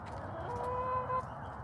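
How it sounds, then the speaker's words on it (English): Backyard chooks clucking in a garden, a soft, close murmur of hen calls with a brief tonal cluck, steady under quiet outdoor ambience. "look at the beautiful chooks"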